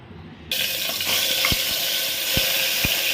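Marinated mutton for mutton kulambu is dropped into hot oil: a sudden loud burst of sizzling that then holds steady and hissing, with a few faint knocks, close by.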